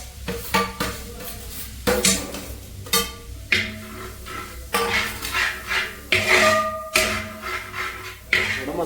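Onions tipped into frying masala in a pot in a rustic home kitchen, a run of loud metallic clanks, scrapes and clattering utensil strikes with bursts of sizzle in between.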